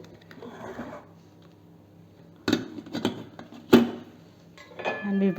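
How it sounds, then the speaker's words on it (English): Steel idli plates filled with batter set down inside a metal steaming vessel, giving a few sharp metallic clatters and clunks with quieter handling noise and faint background between them. "Now we will put it inside the cooking vessel."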